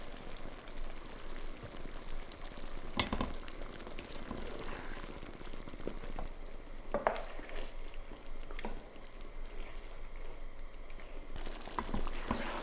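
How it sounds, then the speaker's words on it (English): Egg curry with sliced eggs heating through as it simmers in the pan: a quiet, steady bubbling hiss with occasional faint clicks, close and continuous. "Then add those sliced eggs into the curry and allow them to heat back through for a further 3 to 4 minutes"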